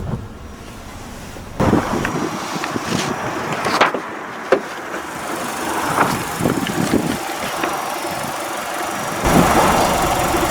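Turbocharged 1.8 litre engine of a 2006 Saab 9-3 Vector idling with the bonnet open, a steady low rumble with outdoor wind noise and a few brief knocks.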